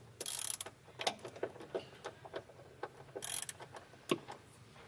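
A ratchet wrench clicks steadily as it tightens bolts onto a vehicle's support frame while off-road on a trail, with bursts of rapid pawl ticking between short pauses, close and clear with no speech.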